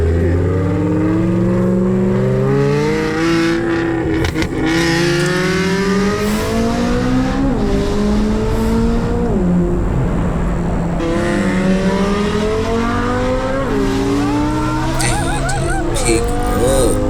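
V12-swapped C8 Corvette engine revving and accelerating hard, with repeated rising pitch sweeps through gear changes and a loud, continuous howl under speech.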